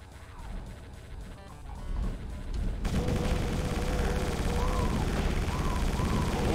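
Gunfire from a weapon in the video game Doom II, rapid shots that build into dense, continuous booming bursts over a noisy, loud game backdrop.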